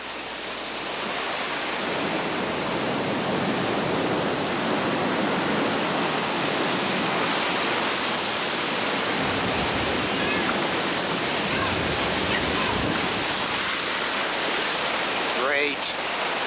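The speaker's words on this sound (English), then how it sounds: "When it hits land, this mound of water rushes ashore." Storm surge water rushing ashore during a cyclone makes a dense, constant roar of churning water and wind that carries on steadily for the whole stretch, loud and close without a break.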